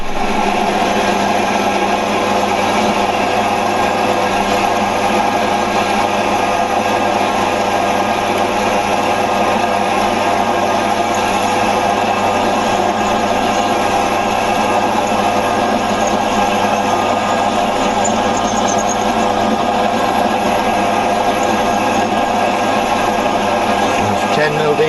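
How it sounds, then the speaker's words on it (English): A tapping drill runs continuously for the whole stretch, drilling out and tapping an M10 thread, with a steady, loud, high-pitched whine and no breaks. "I need to get the tapping drill out now and drill it 13 mil deeper and then tap it M10."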